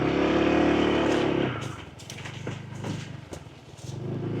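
A 2025 Honda ADV160 scooter rides off-road over sand and fruit-strewn ground, its engine droning loudly up close at first, then dropping to a rougher, bumpy putter as the throttle eases.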